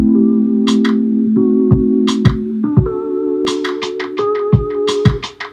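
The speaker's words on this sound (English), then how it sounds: "Next thing I added was a rim shot and a clap on the same track with some delay," Sharp rim shots and claps from a hip-hop beat, each one trailed by eighth-note tape-delay echoes. They crack over a sustained looping chord bed with kick hits, getting busier toward the end of the loud, close mix.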